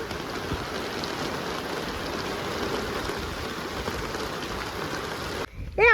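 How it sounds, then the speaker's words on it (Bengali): Heavy rain pours steadily outdoors during a fishing outing, a dense, even hiss of drops close by that cuts out near the end as a brief voice comes in. "দেখুন কি হারে বৃষ্টি হচ্ছে।"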